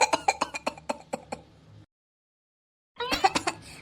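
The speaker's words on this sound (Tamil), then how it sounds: "அதுக்குள்ளேயே இந்த இருமல் வந்து தொலைஞ்சிருச்சு" A person who has been singing breaks into a fit of rapid, harsh coughs and throat clearing, then goes silent for a moment before another short burst of coughing.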